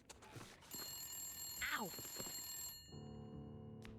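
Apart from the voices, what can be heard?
telephone ringing in video game Wintermute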